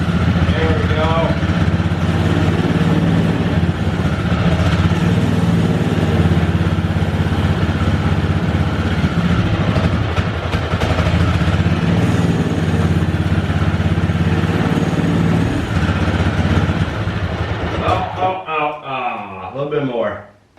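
A 20-year-old Polaris Pro-X 120 mini snowmobile's small engine runs steadily and loudly up close for about eighteen seconds, then cuts out, leaving a voice speaking.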